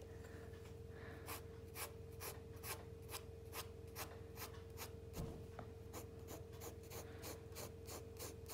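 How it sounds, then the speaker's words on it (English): A Sharpie marker scratches across paper in quick repeated strokes during a still-life shoe drawing demonstration, a steady run of short, close, dry squeaks over a quiet room hum. "So you can see that I'm bringing in my Sharpie."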